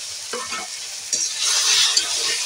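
A chili-turmeric mixture and ginger paste fry with spices for a fish curry, giving a close, bright sizzle broken by stirring scrapes that swells louder partway through.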